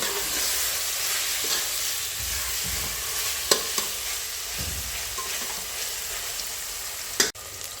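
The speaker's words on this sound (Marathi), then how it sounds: "मटकीचे मोडे शक्यतो ह्याच्याबरोबर भाजून घ्यायचे।" Sprouted moth beans dry-roasting in a hot pan, a steady broadband hiss and crackle with occasional sharp scrapes of a spatula against the metal, close and alone without talk.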